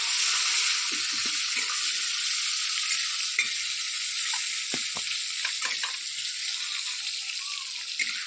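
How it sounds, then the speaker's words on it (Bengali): Prawns frying lightly in hot oil for a homestyle papaya-and-potato prawn curry, a continuous close sizzle with scattered pops and occasional soft clinks of stirring beneath it. "চিংড়ি মাছটা তেলের মধ্যে ভেজে নেব হালকা করে"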